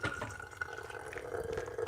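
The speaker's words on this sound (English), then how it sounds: "I'm just gonna get my hot water here. I'm just gonna warm it up, my paper" Hot water poured from a kettle over a paper coffee filter to warm it, a short continuous trickling pour heard close up.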